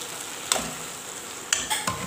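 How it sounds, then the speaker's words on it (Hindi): Boiled vegetables tipped into cooked pav bhaji masala in a frying pan, giving a steady low sizzle with a few sharp scrapes and clinks of stirring at intervals, close by and with no talk. "अपनी उबली हुई सब्जियां अपने मसाले में डाल देंगे।"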